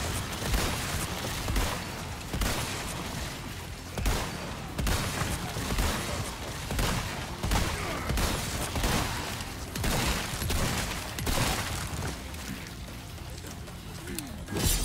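Dense gunfire and grenade blasts from the Resident Evil 4 Remake, a loud, continuous barrage of rapid shots punctuated by heavier booms that runs the whole stretch with no talking.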